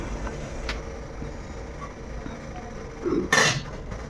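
A lid set onto a cooking pot of ragi idli batter in a home kitchen: a single metallic clank and rattle near the end, with faint kitchen background noise before it.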